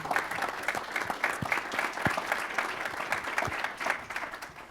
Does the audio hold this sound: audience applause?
yes